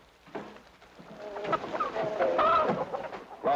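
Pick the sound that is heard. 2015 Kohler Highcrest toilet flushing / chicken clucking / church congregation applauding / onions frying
chicken clucking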